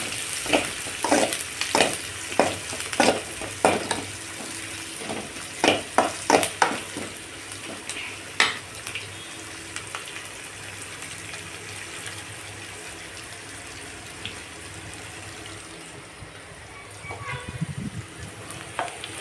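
Ingredients being sautéed until brown in a pan for a chundal dish, with a spatula stirring and scraping in quick bursts over a continuous sizzle, then settling into a quieter steady frying sound.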